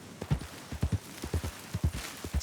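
A horse's hooves clip-clop at a steady walking pace in the western game Red Dead Redemption 2, the close, distinct thuds coming in uneven pairs under light background ambience.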